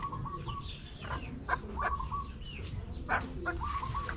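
Chickens in a pen clucking and calling close by, several short overlapping clucks and squawks over a low rustling, farmyard background.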